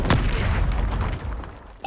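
Confringo explosion spell going off in Hogwarts Legacy, a loud booming blast at the start followed by a sustained rumbling roar that fills the short moment, with a sharp impact near the end.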